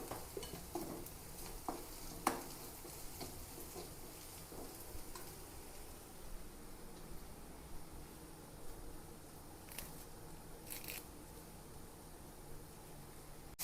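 Chili powder being stirred into a pan of cooked green gram curry with green chilies and salt gives soft scraping and stirring with a quiet sizzle, plus a few sharp utensil knocks against the pot, and no talking.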